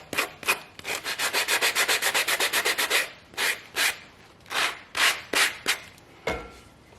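Sandpaper rubs the edges of a small craft house, first in a fast run of about a dozen even back-and-forth strokes, then in slower separate scrapes, close and clear with no talking.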